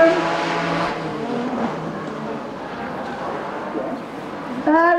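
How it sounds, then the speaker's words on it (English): Nasser Al-Attiyah's rally car spins donuts at Goodwood Festival of Speed 2022, engine revving in sustained high-pitched pulls with tire squeal, heard at moderate distance beneath an excited commentator's voice. "just a couple of donuts down the bottom"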